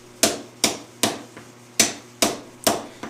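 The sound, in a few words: hammer cold forging a Japanese sashimi knife blade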